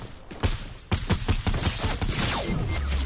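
Rapid bursts of turret fire in a video game battle royale duo match, a string of sharp close thumps and cracks in quick irregular succession filling the short moment.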